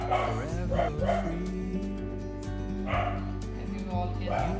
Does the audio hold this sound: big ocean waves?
no